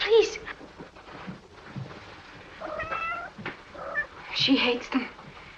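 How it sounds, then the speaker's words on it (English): Several cats meowing indoors in a 1947 film scene, a few plaintive, wavering cries scattered across the scene, mixed with voices talking. "My poor kitties."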